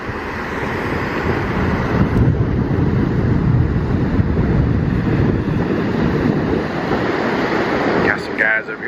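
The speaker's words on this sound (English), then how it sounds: "the wind is really blowing, and look at that ocean, really getting angry" Strong tropical storm wind roars across a microphone on the beach at Pleasure Island, North Carolina, over rough ocean surf, a loud steady rush lasting throughout with a brief rattle near the end.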